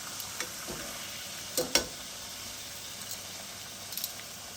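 Banana blossom coated in batter frying in a pan until golden brown: faint steady sizzle with a few soft crackles and utensil clicks, quiet and close, no talk.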